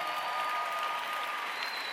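A large graduation convocation audience applauds and cheers in a big hall, with dense, steady clapping that holds at full level for the whole stretch.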